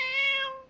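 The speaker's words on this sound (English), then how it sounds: "A cat, of course." A single short cat meow, clear and tonal, close and fairly loud, heard alone and fading at the end.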